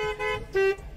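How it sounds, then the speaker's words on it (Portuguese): A car horn honks in short bursts, three toots with brief gaps between them, fairly close and loud over background noise. "Continua buzinando!"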